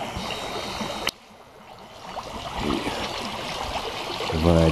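The Tirlyanka river in spring flood, a steady broadband rush of fast water heard from nearby, briefly dipping after a click before swelling louder again.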